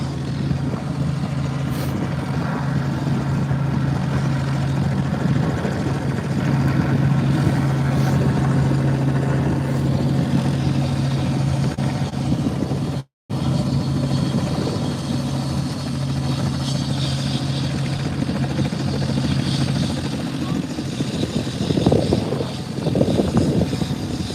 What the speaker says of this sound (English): Quite a nice helicopter.